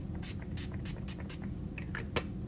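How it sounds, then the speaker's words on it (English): A handful of quick, hissing bursts of makeup setting spray in a row, close and fairly soft, over a quiet room background. "Let's go setting spray."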